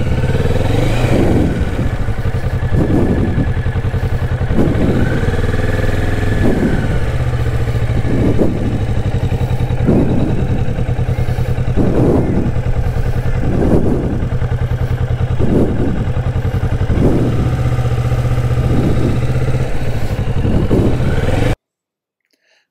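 A Kawasaki Vulcan S motorcycle engine runs steadily at low speed through learner manoeuvres such as weaving turns, a loud, continuous mid-range drone with a regular rhythmic pulsing and clatter, and no talk.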